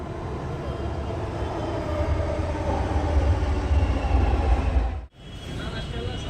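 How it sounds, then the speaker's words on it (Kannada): A train rumbles past with a loud, sustained low roar and broadband clatter, its noise filling the scene until a sudden cutoff, with voices faintly present. "ಹಿಂಗಿಂದ ಟ್ರೈನ್ ಬರುತ್ತಾ?"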